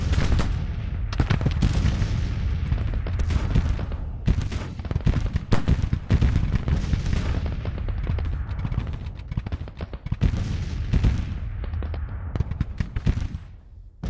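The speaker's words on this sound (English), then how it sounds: "Let's issue orders for everybody to fire at long range." Long-range musket and artillery fire from massed Civil War armies in the strategy game Grand Tactician: Civil War, a dense continuous roll of overlapping gunshots and booming blasts, loud and sustained throughout.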